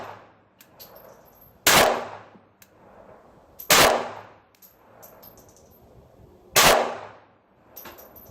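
Three sharp, loud pistol shots from a Ruger LCP II, spaced a couple of seconds apart with quiet handling and movement sounds in between, no talking.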